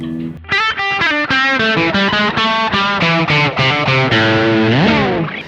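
A heavily distorted G&L Tribute ASAT Classic electric guitar plays a run of separate picked notes, ending in a bending, sliding tone.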